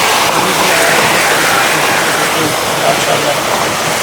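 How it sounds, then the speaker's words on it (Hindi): Snowmelt water from a glacier rushing downhill near Babusar Top in the mountains of northern Pakistan, a loud, constant broadband roar filling the whole stretch, with someone speaking over it. "ये सारा बर्फ़ का पानी पिघल के नीचे आ रहा है।"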